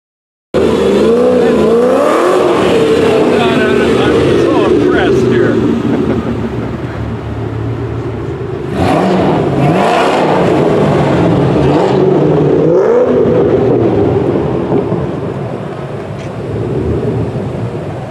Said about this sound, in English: It is a 1956 Chevy Bel Air.